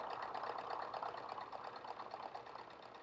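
A sewing machine stitches a quilt block for a flowering-tree sampler pattern, its rapid, even needle chatter running close and continuous with no talk over it.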